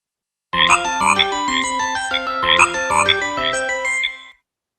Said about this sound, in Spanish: les voy a poner un audio, a ver si a través de ese audio logran identificar alguna otra rana